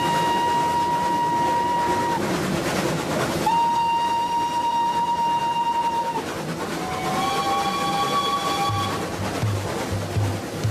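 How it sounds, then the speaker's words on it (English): A train runs along the rails with wheels clattering steadily while its horn sounds loud, sustained blasts, one after another, the last with a shifting pitch. "Jinnah took the train from Delhi."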